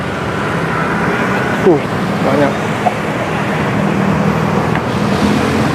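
Steady street traffic rumbles through Mangga Besar, Jakarta, with a tour bus nearby, a continuous loud road wash under a person's speech.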